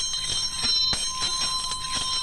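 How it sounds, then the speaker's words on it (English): A singing bell has its rim rubbed round and round with its clapper, giving a sustained, ringing metallic hum with faint rhythmic pulses from the rubbing, close and steady with no talk. "And that's why it's called a singing bell."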